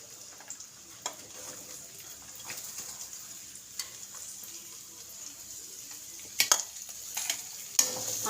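Onions fry in hot oil with a soft, steady sizzle, broken by occasional scrapes and taps of a stirring utensil.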